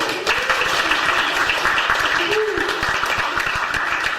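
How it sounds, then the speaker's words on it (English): A gathered audience gives a round of applause for an event sponsor, steady dense clapping from many people with a faint voice briefly audible underneath. "Give them a round of applause."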